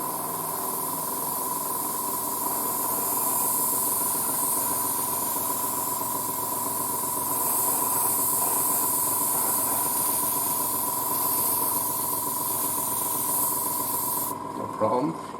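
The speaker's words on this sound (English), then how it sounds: "Let's grab the other airbrush and give a little color here." Airbrush spraying paint onto a 1:35 Trumpeter E-50 Standardpanzer scale model tank, a steady continuous hiss with a faint tone running throughout, briefly cutting off near the end.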